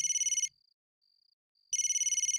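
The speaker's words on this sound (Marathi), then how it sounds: "आता कोणाचा फोन आला बघते।" A phone rings with an incoming call, a bright electronic ringtone in a loud burst, then soft pulsing tones, then loud again, with no talk.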